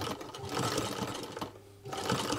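A Singer sewing machine fitted with a buttonhole attachment (No. 86662/86718 type) runs steadily and close up, a dense mechanical whir with a brief pause partway through before it starts again.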